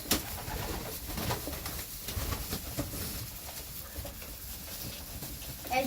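Racing homer pigeons cooing in their loft, soft low coos under a constant rustling background with faint movement noise, fairly quiet.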